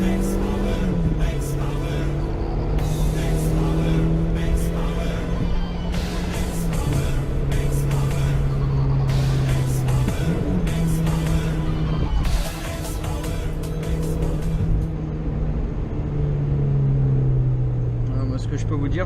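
A Peugeot 205 engine accelerates while the car drives, with a steady loud hum that rises in pitch through several gear changes, under someone talking over it.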